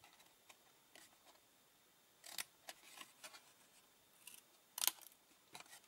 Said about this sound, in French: Et je vais ensuite couper en billets mes 3 onglets, celui sur la gauche, sur la droite et également celui sur le bas de mon morceau de papier.